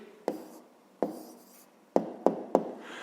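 An answer is written by hand on paper for a fifth-grade maths exercise, five short scratchy pen strokes close by, spaced irregularly with quiet gaps between, no voices.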